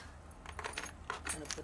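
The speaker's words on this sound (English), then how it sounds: "I'll put the keys in there" Keys jangle and clink in short metallic bursts as a set is put down in a hidden spot indoors, close and fairly quiet, with brief rattles scattered over a faint background.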